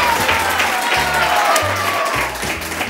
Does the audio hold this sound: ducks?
no